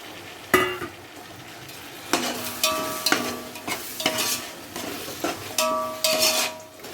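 Seven hundred grams of chopped tomatoes and twelve slit green chillies fry for biryani while a spoon stirs and scrapes the pot in uneven bursts over a steady sizzle, with sharp clanks of metal on metal.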